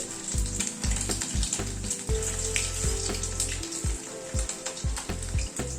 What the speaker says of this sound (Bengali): গ্যাসের ফ্লেমটাকে কমিয়ে প্রায় 2-3 মিনিট সময় ধরে চিকেন গুলোকে ভেজে নিলাম।